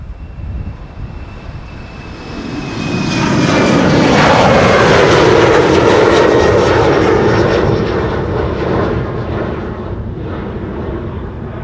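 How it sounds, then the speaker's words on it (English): Embraer 190 jet at Amsterdam Schiphol, a loud engine roar swelling as it passes close by, peaking midway, then slowly fading into a lingering rumble amid crosswinds. "In the meantime, the Embraer 190"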